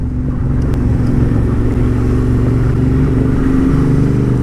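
A rally car engine runs loud and steady at high revs with a continuous low droning rumble and no clear gear changes, alone without talk.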